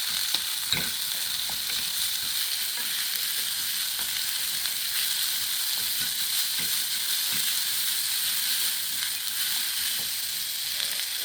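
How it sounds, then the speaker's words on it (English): Cabbage and other vegetables sauté in a hot pan with a constant loud sizzle and hiss, broken by faint scrapes of stirring throughout. "I'm going to saute that for a minute. I want to add my cabbage."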